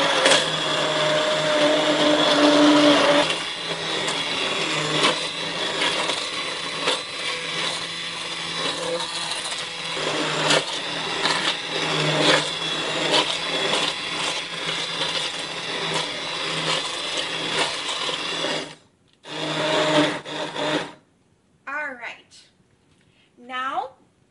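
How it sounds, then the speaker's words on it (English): Blender whirring loudly and steadily as it purées a large batch of zucchini soup, running for about 19 seconds with slight shifts in pitch, then stopping in short bursts before falling quiet with a voice speaking briefly. "let it cool down and then put in the blender"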